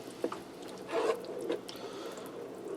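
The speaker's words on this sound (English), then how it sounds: "About a half a can of tomato juice." Tomato juice poured from a can into chili cooking in a Ninja Speedi, a soft, close liquid glug and splash with a few drips, fairly faint and without speech.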